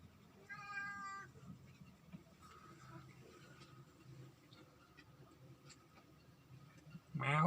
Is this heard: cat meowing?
yes